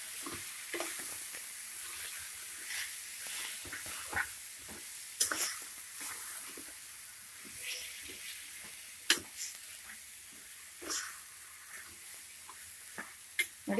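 Sprouts sambar masala stirred in a pan, a steady sizzling fry broken by frequent sharp scrapes and clicks of a spoon against metal, close and continuous with no talking.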